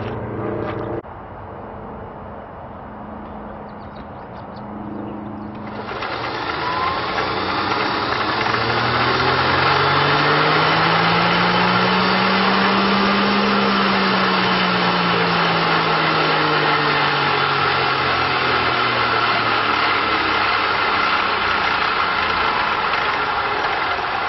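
A car fitted with an electric forklift motor has its clutch let out in first gear. The motor's steady hum turns into a louder whine that rises and then falls slowly in pitch, with no one talking.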